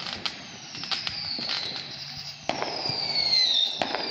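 Fireworks on the 4th of July out in the country: a quick series of sharp pops and crackling bursts, fairly close and loud, with no voices.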